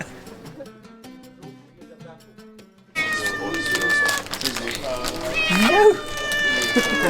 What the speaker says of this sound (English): then we met a local cat